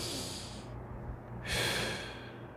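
Ordinary breathing shown by a voice instructor: one long, airy inhale through the nose, a short pause, then a steady exhale, close to the microphone with no speech.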